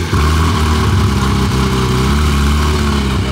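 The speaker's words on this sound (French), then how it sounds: "Le moteur 4 litres, qu'on va entendre démarrer d'ailleurs, probablement." A Porsche 911 GT3 991 phase 2 with its 4-litre flat-six runs steadily at a loud, close, even idle for a few seconds, a dense rumbling drone with no talking.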